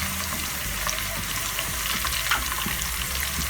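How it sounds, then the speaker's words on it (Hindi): Cumin seeds frying in a pan with browned onions for a dhaba-style chana dal give a steady, close, hissing sizzle that holds at an even level throughout, with no voices. "अब हम इसमें ज़ीरा शामिल कर देंगे और ज़ीरे को फ्राई कर लेंगे।"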